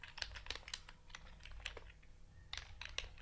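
Keys clatter in irregular bursts as code is typed on a computer keyboard, close and fairly quiet, with short pauses between runs of keystrokes.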